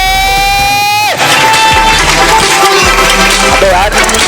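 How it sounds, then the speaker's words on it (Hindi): A loud game show crowd at an Eid musical gala cheers, whoops and claps after a sustained musical tone cuts off, with energetic shouting throughout. "तालियां बजेंगी जोर से।"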